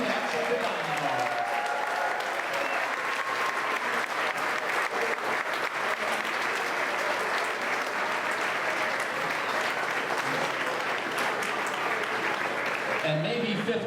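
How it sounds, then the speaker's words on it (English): An audience in a dining hall at a lodge centennial celebration applauds continuously for about fourteen seconds, a dense, even wash of clapping that holds steady before tapering at the end. "Let's clap for them"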